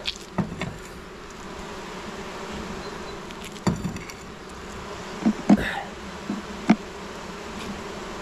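Honeybees buzz in a steady, dense hum, broken now and then by soft knocks and taps close by.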